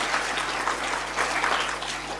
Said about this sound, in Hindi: जोरदार तालियां प्रभु के लिए हो जानी चाहिए।